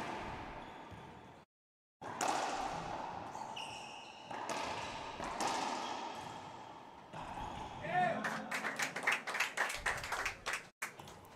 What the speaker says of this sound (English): Applause from the Chileans.